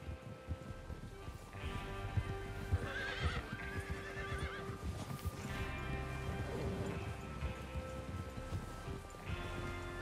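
Several horses gallop in Red Dead Redemption 2 with steady clip-clop hoofbeats and an occasional whinny, layered over continuous background music and ambience.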